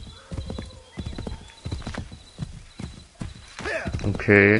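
A horse is ridden in the Assassin's Creed 3 video game, its hooves clip-clopping in a quick, steady rhythm up close. A whinny comes near the end, and someone briefly speaks over it.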